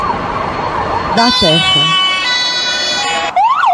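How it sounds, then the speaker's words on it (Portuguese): Ambulance sirens wail loudly, first a low swooping wail, then a steady high two-tone blare and finally a rising-falling yelp, with a brief spoken phrase near the start. "Ambulâncias, sirenes de ambulâncias em todos os países"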